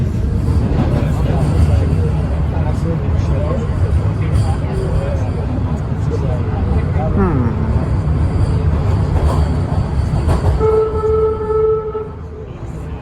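Subway train rumbling along in a tunnel on the approach to Dundas Station, a steady loud rail roar throughout with a rising squeal near the end, while voices murmur softly beneath.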